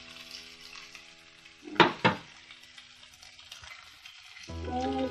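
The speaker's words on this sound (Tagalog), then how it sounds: "After maluto yung onion, ilagay ulit natin ang ating eggplant." Eggplant and onion frying in a pan, a steady low sizzle with two sharp bursts of stirring or scraping midway, then a louder, fuller hiss near the end as more food goes into the hot oil.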